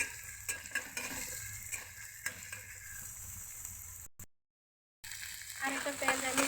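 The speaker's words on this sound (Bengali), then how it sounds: "রান্নার জন্য আমি একটা কড়াইতে একটা পেঁয়াজ আর কাঁচামরিচ বসিয়ে দিয়েছি। এখন দিয়েছি পরিমাণ মতো সয়াবিন তেল।" Onion and green chili in soybean oil fry in a wok with a soft, steady sizzle and occasional stirring clicks, broken by a brief silent gap before the frying picks up again, slightly louder, near and fairly quiet.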